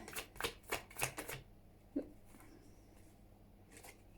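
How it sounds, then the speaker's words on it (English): Oracle cards are riffled and slapped in a quick run of about half a dozen crisp papery flicks, then a lone soft tap and a final faint flick after a quiet pause, close and without speech. "Otherwise I'll pull an oracle card and then I'm going to finish it there."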